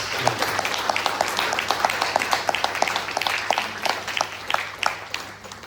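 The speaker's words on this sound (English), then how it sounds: "And they also deserve a round of applause." An audience at an abhang devotional concert claps for the musicians, a moderate, fairly even patter of individual claps from a small crowd, close and steady throughout.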